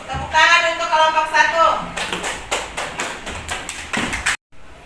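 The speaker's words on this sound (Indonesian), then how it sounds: "Tepuk tangan untuk kelompok" A class of students claps for the first discussion group presenting in an Indonesian classroom. Voices talk at the start, then a burst of sharp, uneven clapping runs for a few seconds before it cuts off.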